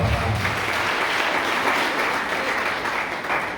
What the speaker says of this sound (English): Let us clap our hands.